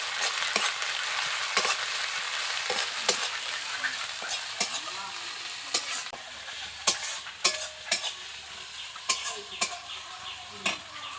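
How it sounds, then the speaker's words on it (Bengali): Ginger and garlic paste frying in a pan for a crab curry, a continuous close sizzle punctuated by sharp spatula scrapes and stirring clicks, no talk. "এর মধ্যে আদা ও রসুনের পেস্ট দিয়ে দেব, একটু ভালো করে ভেজে নেব"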